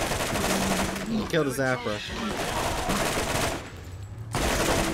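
Gunfire in the Borderlands video game, a continuous noisy rattle of shots under a voice, fairly loud and dense, briefly thinning near the end.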